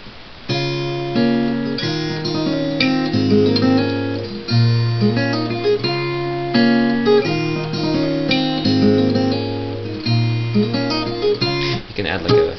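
An acoustic guitar plays a song at full tempo, with bass notes plucked by finger under ringing chords in a steady, continuous rhythm and no talking.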